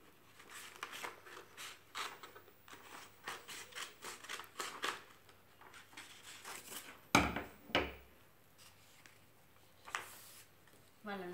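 Scissors cut a small piece of card for a craft project, producing a quiet series of irregular snips and rustles with occasional speech.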